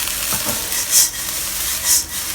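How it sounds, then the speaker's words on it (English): Thai olive fried rice being stirred in a hot wok, steady hissing sizzle with two brief scraping strokes of a spatula, close and loud. "Mix it up well again and we will serve up this dish."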